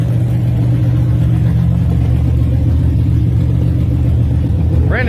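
A Chevrolet Nova gasser drag racing car at a drag strip, its engine a loud, deep continuous rumble idling close by, steady and throbbing with no talking over it.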